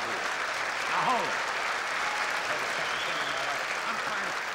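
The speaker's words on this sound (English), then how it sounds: "Don't applaud." Audience applause from a comedy show crowd, a steady burst of clapping with some crowd noise and a brief voice rising over it.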